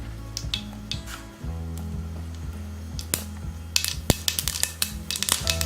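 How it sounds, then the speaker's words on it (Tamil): Mustard seeds splutter in a small amount of hot oil for tempering a coriander seed chutney, sharp scattered pops over a steady low hum that grow quicker and louder toward the end. "நல்லா கடுகு பொரிஞ்ச உடனே அடுப்பு ஆஃப் பண்ணிவிட்டு"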